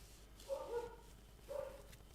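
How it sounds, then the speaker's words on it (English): Dogs barking somewhere off in the distance, two short clusters of barks about a second apart, faint and with no other sound around them. "The dogs are just going crazy."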